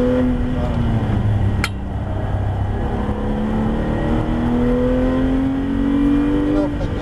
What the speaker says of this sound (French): On freine. On plonge la voiture. On patiente. Et on accélère progressivement.